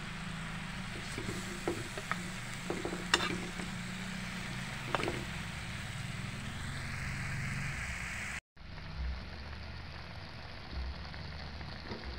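Pork cooking in a hot dry pan without oil, a steady broadband hiss with scattered sharp clicks, a brief cut near the end, then the sizzle resumes.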